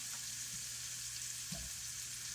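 Minced garlic sizzles steadily in a hot pan while spaghetti sauce with pork sausage is being made, a constant close frying hiss broken by two soft stirring knocks.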